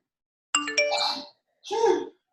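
A phone notification sounds in a room: a bright multi-tone chime followed by a second softer ding, two short bursts with silence around them.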